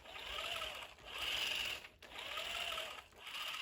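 Pushed by hand, the transmission gears of a Traxxas TRX4 Sport RC truck give a faint, close whirring buzz that swells and fades about once a second.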